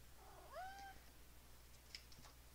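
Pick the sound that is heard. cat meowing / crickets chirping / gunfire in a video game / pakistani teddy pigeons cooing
cat meowing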